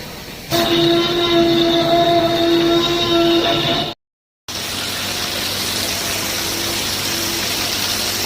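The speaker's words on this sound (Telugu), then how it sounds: "ట్రైన్ వస్తుంది, అట్లా ఉంది చూడండి." Train approaching at the Bhavani Island theme park in Vijayawada: a loud, steady droning hum with a sustained tonal whine, a brief cut, then a broader continuing rumble.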